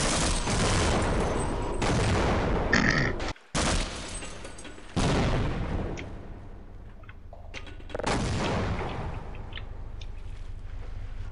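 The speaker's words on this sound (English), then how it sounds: "Oh god, that's a tank." Tank cannon in the game Half-Life firing a series of heavy, loud booms, each blast followed by a rumbling decay, with gaps between shots and a brief silence in between.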